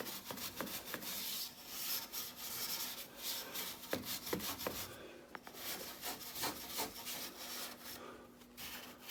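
A small shoe-and-nail brush scrubs parts during servicing of a Vaillant ecoTEC pro gas boiler, giving dry, scratchy rubbing strokes in quick irregular bursts, close up and fairly quiet with no talking.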